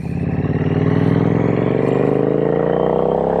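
Triumph Street Twin 900 with a 900cc inline-twin engine and TEC 2-into-2 exhaust, loud and close, its rumbling note rising steadily as the bike accelerates and pulls hard with no pause.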